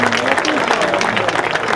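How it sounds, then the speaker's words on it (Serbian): An audience at a folklore festival concert applauds a brass band in dense, continuous clapping, with a voice speaking over it. "Molim vas još jedan veliki aplauz za ove sjajne momke"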